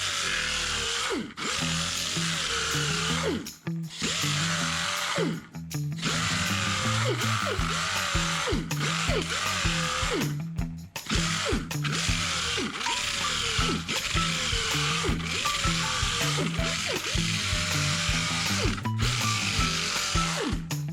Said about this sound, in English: Grinder disc, 36 grit, fiberglass reinforced filler. Just hold it flat.